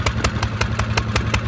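A Kubota lawn tractor engine, apparently not running at full power, chugs in a steady, even rhythm of close, loud pulses with no one speaking.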